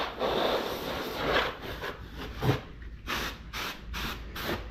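Short hissing bursts of compressed air spray dust from a gaming PC and its radiator, fairly close, with rubbing and scraping sounds between them.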